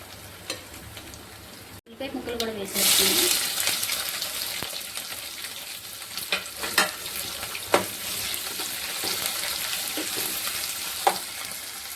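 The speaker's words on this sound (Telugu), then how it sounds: "ఆయిల్ హీట్ ఎక్క పప్పు దినుసులు కూడా వేసేస్తున్నానండి" Lentils and other dals tipped into hot oil in a home kitchen, bursting into a loud close sizzle after a brief pause, then frying steadily with occasional stirring scrapes and pops.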